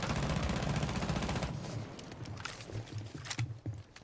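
Legion's gun, fitted with an extended barrel in Rainbow Six Siege, fires a fast, even automatic stream for the first second and a half, then breaks into scattered shots and clatter at moderate loudness.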